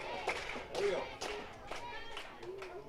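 A crowd at Vintage Throne Stadium claps and cheers during Game 2 of an IBL baseball playoff semifinal, with bursts of applause rising and falling under a commentator's voice.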